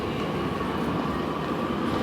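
A train running on a railway line in Nuremberg, a steady rumbling roll of wheels and carriages heard fairly close and continuous throughout, with no talk.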